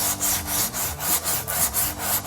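A flat file is pushed over wood in about eight quick, even rasping strokes, each stroke a scratchy rub in steady rhythm, close up.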